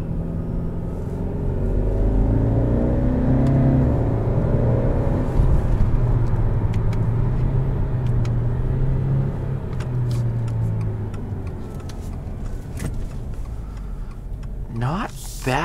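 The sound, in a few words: 2021 Subaru Legacy XT accelerating and shifting gears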